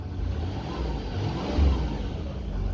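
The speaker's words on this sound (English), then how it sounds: "I'm just going to touch the gas pedal quickly, just to show you there's no smoke coming out the back" A black 2007 Range Rover Sport with the 2.7 TDV6 diesel gets a quick blip of the gas pedal in freezing weather, a low engine rumble that swells briefly in a rev, then settles back to idle.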